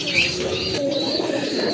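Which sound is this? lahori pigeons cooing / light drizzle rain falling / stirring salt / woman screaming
lahori pigeons cooing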